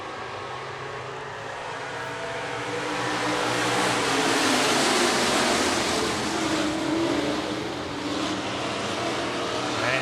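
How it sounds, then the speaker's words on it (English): IMCA stock cars race a heat at Buena Vista Raceway. Their engines blend into a broad, roaring wash heard from a distance, swelling in the middle and then holding steady, with faint talk underneath. "Final heat race for your Siemens Graphics IMCA Stock Cars."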